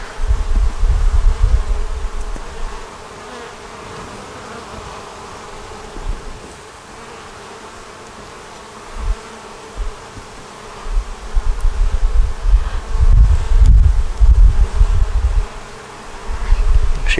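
Honeybees buzz steadily around an open nuc hive packed with eggs, brood and stores, the hum swelling and fading as foragers bring in pollen, with louder close passes near the microphone early and late.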